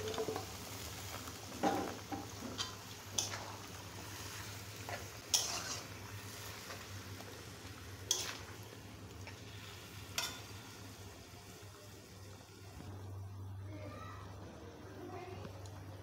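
Cut taro and Malabar spinach cooking in a pan for a fish curry, with a low steady sizzle, scattered stirring scrapes and clinks of utensils against the pan, and no talk.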